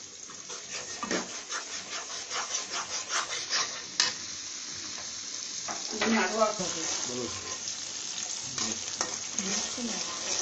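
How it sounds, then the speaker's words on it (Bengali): Chicken for a Bangladeshi chicken roast sautéed in a pan until browned, with steady sizzling and rhythmic scraping stirs, close up and moderately loud, with a brief knock partway through. "এটাকে ভালো করে কষাতে হবে, কষিয়ে একটু বাদামি রং করতে হবে"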